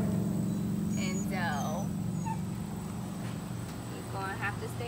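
German Shepherd puppy gives a few high, thin whimpers and yips over a constant low background hum, indoors at close range.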